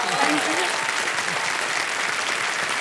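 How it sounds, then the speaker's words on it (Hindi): Studio audience applause on the Indian quiz show KBC, a steady, loud wash of clapping from a crowd that carries on without a break, with faint voices underneath. "तालियां बज जाए उनके लिए।"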